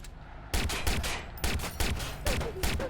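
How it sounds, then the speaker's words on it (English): Rapid bursts of gunfire in the video game Watch Dogs, loud and close, several volleys cracking out in quick succession after a brief quieter moment. "Somebody's shooting."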